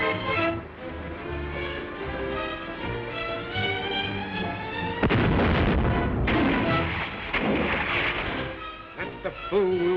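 Weapons fire at a tower in a 1936 film serial, heard as a loud, dense barrage of booming blasts and rumbling bursts that runs throughout, heaviest in the second half, over an old film soundtrack with music.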